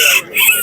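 Loud, close crowing or clucking from a rooster at a poultry bazaar in Namangan, one short strained call with a brief break in the middle.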